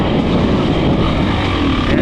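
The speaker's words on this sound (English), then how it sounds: "First ride on this new, to me, 2024 KTM 300" A 2024 KTM 300 XC-W dirt bike rides along a Michigan trail, its engine a loud, dense, continuous roar with no gaps.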